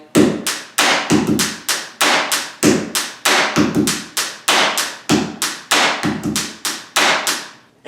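Beginner pen tapping beat played on a desk, imitating snare claps and hi-hat: crisp, close, rhythmic taps and thuds in a repeating pattern with no talking.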